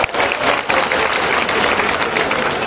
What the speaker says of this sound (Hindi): जोरदार ताली बजा दीजिए